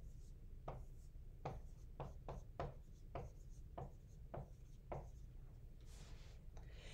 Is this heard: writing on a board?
yes